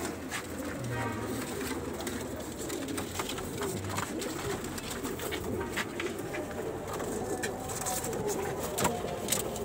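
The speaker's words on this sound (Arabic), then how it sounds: "بصوا يا جماعه فرد حمام عامل ازاي" Domestic pigeons in a loft give low, repeated cooing calls close by, with a steady murmur of other birds and faint background noise throughout.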